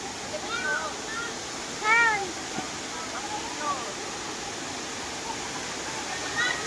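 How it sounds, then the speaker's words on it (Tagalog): Hinulugang Taktak waterfall gives a steady, broad rushing roar throughout, with brief chirp-like calls and light voices on top of it. "Ayan, ang falls."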